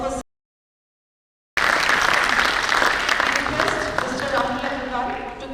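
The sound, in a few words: audience applause for guest of honor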